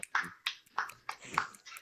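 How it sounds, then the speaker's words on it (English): About half a dozen sharp, close handclaps in a loose, uneven rhythm, each a crisp separate smack, during an improv theater show in VRChat. "Sounds like clapping."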